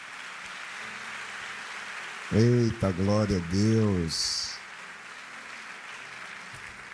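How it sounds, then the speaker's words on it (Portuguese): A church congregation applauds, a steady wash of clapping running through the whole stretch while a voice briefly exclaims over it midway. "Vocês poderiam aplaudir bem forte ao Senhor Jesus?"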